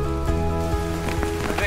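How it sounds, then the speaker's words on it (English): Rain falls steadily during the last day of an outdoor tour, a constant patter close by with faint voices underneath. "I didn't expect the rain."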